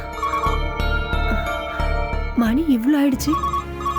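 A phone ringtone plays late at night in a Tamil TV serial, repeating a melodic electronic ring pattern loudly throughout while a voice talks briefly over it.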